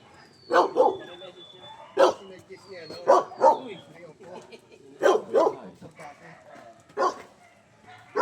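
Dogs at a charity ride event in Bulacan bark in short bursts, with several loud yaps coming every second or so among chatter and a faint whistle-like squeak.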